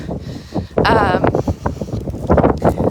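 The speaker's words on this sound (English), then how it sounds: "It's a windy day." Gusty wind buffets the microphone in rough, low rumbles close up, with a brief tonal squeak midway and muffled noise throughout.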